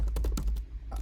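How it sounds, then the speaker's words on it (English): Rapid clicking keystrokes on a computer keyboard during a JavaScript coding session, a quick irregular burst of close, crisp taps over a low hum, ending with a short pause and one more tap. "as I'm typing this"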